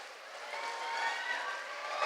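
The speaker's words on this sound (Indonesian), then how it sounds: "Bolehkah saya minta jemaat tepuk tangan untuk Pak Daniel?" A church congregation clapping for Pak Daniel at a 33rd anniversary service, a steady wash of applause that sounds somewhat distant and continues throughout.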